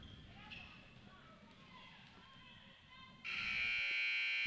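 Faint basketball game noise and distant voices give way to a loud, sustained electronic buzzer that blares abruptly and holds until the end, at a women's tournament semifinal.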